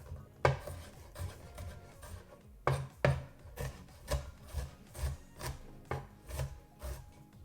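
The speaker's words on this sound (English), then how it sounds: "So you just proceed until you've got all your vegetables chopped up the size you want them." A kitchen knife chopping vegetables coarsely for homemade salsa, sharp repeated strikes on a board in an uneven rhythm, close and fairly quiet, with no talking.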